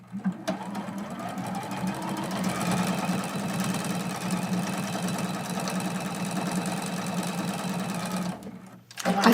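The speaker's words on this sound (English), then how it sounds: "we're going to sew on piece number 6." A sewing machine runs steadily and close, stitching a strip piece onto a quilted mug rug with a continuous, buzzing mechanical rhythm, slowing and stopping near the end.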